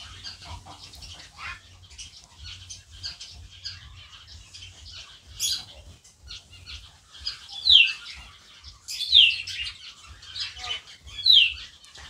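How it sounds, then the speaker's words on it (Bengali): A pet budgerigar chick and other caged budgies make thin, high chirps and tweets, with a few sharper calls standing out near the end over a low background hum, with no talking. "আর এই যে আমার বদ্রি পাখির বাচ্চাটা"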